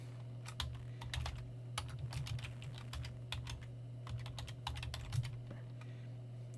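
Close, rapid typing on a computer keyboard, with irregular clusters of crisp key clicks over a low steady hum, no talking.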